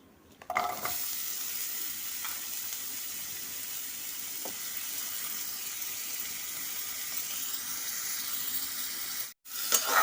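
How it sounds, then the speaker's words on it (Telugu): Chopped onions and green chillies frying in oil in a pan for chicken fry, a steady broadband sizzle running throughout with occasional stirring scrapes, close and fairly loud, no talking. "ఇప్పుడు ఇందులోనే మనం ముందుగా తరిగి పెట్టుకున్న ఆనియన్స్, పచ్చిమిర్చి వేసుకుందాం"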